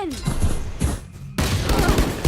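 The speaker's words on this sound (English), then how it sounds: "Oh, but the Sheriff. Oh, the headshots just connect and connect." Rapid bursts of gunfire come from a Sheriff pistol in a competitive team-shooter match. The shots fire in quick succession and are dense and loud, with brief commentary-like voices mixed in.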